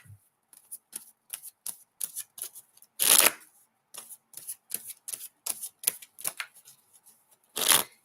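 Tarot cards are shuffled in quick riffling bursts, a steady run of crisp flicks and slaps with one louder riffle midway and another near the end, close and alone.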